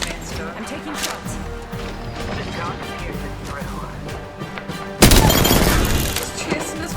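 Bursts of video game gunfire and crashing impacts over a constant busy game soundtrack, with a sudden loud blast of gunfire and explosions about two thirds of the way through.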